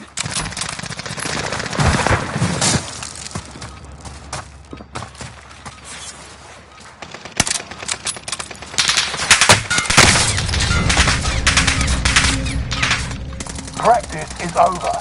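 Heavy gunfire in a military shooter video game, dense bursts of automatic fire and explosions rising and falling, loud and close, with some voices in the mix.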